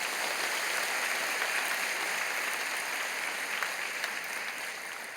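A church congregation applauds to welcome three new ministers, dense steady clapping filling the room evenly from start to finish with no voices.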